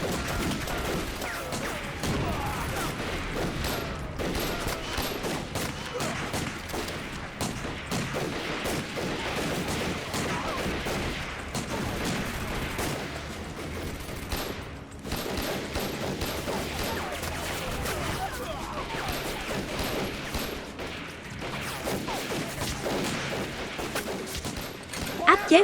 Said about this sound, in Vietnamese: bắn cho tôi khai hỏa